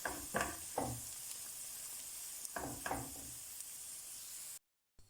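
Onions for potato pancakes with mushrooms sizzle steadily in a frying pan, a moderate hiss punctuated by a few soft stirring scrapes, with no voices before the sound cuts off abruptly at the end.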